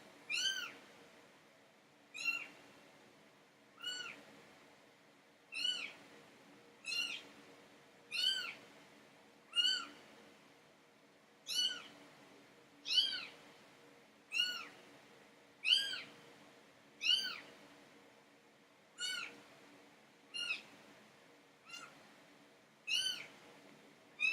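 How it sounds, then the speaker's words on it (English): Newborn kittens meow over and over in a steady, regular series of high, thin cries, close by, with no voices. "my booth has gotten taken over by kittens"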